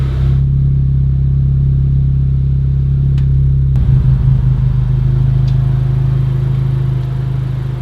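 A Honda Civic Type R with a Perrin catback exhaust idling and revving while stationary, a loud deep droning rumble that steps up in pitch midway and then holds steady.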